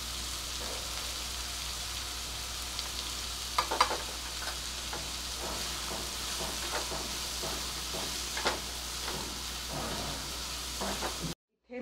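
Onion and turmeric sizzle steadily in a pan. Repeated scraping strokes of stirring rise over the continuous frying hiss, with no talk, and the sound cuts off abruptly at the end.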